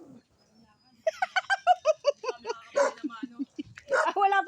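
A dog barks in a quick run of sharp yaps, then keeps going in shorter bursts, close and loud with a voice mixed in.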